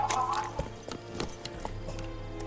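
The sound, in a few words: Roach the horse in The Witcher 3 video game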